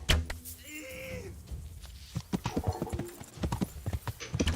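Horse hooves clopping in the medieval game Kingdom Come: Deliverance, a quick uneven run of thuds and knocks building toward the end, with a brief whinny-like tone early on and no talk over it.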